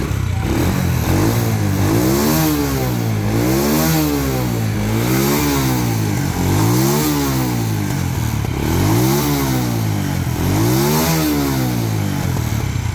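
A Honda Wave 100 S motorcycle engine, stock and in good condition, runs steadily and quietly up close, its idle rising and falling in repeated smooth surges of revving with no one talking.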